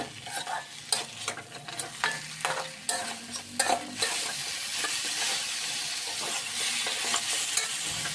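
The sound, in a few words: prawns frying and stirring in spice paste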